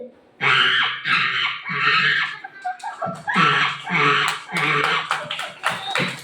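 A voice imitates a monkey screeching, with repeated loud, high shrieks that run nearly continuously and close up, as part of a multi-voice mimicry performance at an arts festival.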